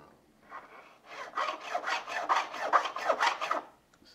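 A file rasps rhythmically across guitar frets as they are re-crowned, a quick run of about ten close, even strokes, faint and alone.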